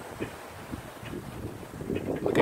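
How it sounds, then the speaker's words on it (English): Gusty wind blows outdoors during storms in Texas, a steady low rumbling roar buffeting the microphone and swelling louder toward the end, with no talking. "It's windy out. I'm sure you can hear all that wind."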